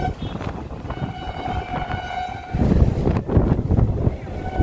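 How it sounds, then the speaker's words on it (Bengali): A local train pulls out of Bethuadahari station on the Azimganj to Krishnanagar line. It sounds a long, steady horn note, and then the loud rumble of the wagons rises as it gets moving. "ছেড়ে দিচ্ছে আমাদের ট্রেন বেথুডাউরি স্টেশন।"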